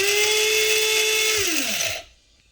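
Coffee grinder grinding coffee beans for French press, a loud steady high whir that winds down in pitch and cuts off, leaving near silence.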